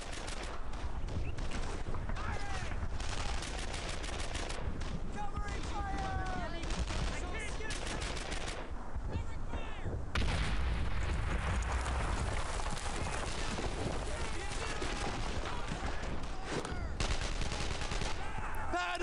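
Sustained gunfire from a World War II battle in Brothers in Arms: Earned in Blood, with dense bursts of rifle and machine-gun fire rattling continuously and loudly throughout, voices shouting faintly beneath the shooting.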